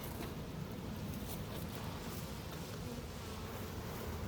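Dense, continuous buzzing of many honeybees being removed from frames of a combined hive, steady and enveloping, with no voices.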